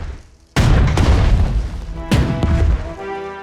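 Artillery fire in a World War II strategy game, with two heavy booming blasts in quick succession, each with a sharp onset and rumbling tail, loud and up front.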